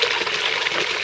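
Fresh stream water flows steadily in the desert, a close, bright, continuous rush and trickle with no voices over it.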